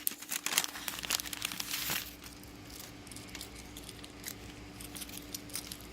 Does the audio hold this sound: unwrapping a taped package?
yes